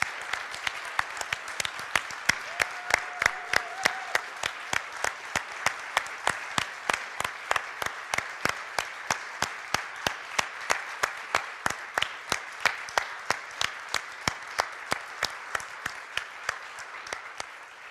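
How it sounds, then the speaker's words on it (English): Steady applause from a church congregation at a Unitarian Universalist service, dense and sustained for the full length, with individual claps clearly audible throughout the room. "please join me in giving Rosie a round of applause"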